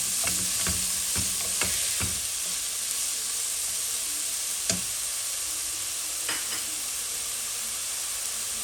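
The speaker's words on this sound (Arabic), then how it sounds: "رايحه نحط البصل، نخلي البصل عادي. الزيت اللي بقات اللي قليت فيها هذاك البولي" Chopped onion fries in oil left over from frying chicken in a pan, making a steady close hiss with a few sharp clicks and scrapes from stirring, and no speech.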